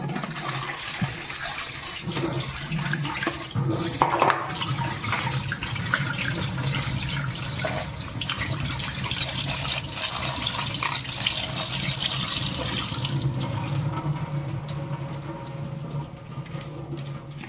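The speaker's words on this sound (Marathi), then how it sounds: "तोपर्यंत आपण हा किसलेला बटाटा स्वच्छ धुवून घेऊ" Grated potato rinsed under a running kitchen tap, a steady loud rush of water splashing into a sink with faint clatters, continuous for the whole stretch.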